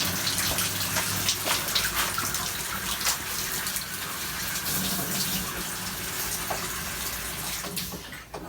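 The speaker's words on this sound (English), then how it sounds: "There's water coming out over here" Water rushing out of opened pipes during a tankless water heater install, a steady loud gushing spray that runs without pause and tapers slightly at the end.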